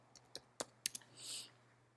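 A few separate keystrokes on a computer keyboard, close and quiet, come as sharp irregular clicks followed by a brief soft rushing noise, with low background hum and no talking.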